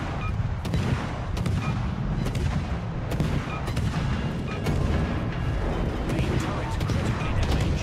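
Destroyer guns firing in World of Warships, heavy naval salvos booming repeatedly in a steady rhythm across the battle, with a player talking throughout over the gunfire.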